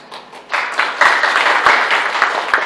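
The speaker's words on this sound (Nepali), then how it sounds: "योभन्दा ठुलो ताली बजाउन बाँकी छ" Crowd applause at a Nepali political rally, rising quickly from quiet into sustained, dense clapping that stays loud and even to the end.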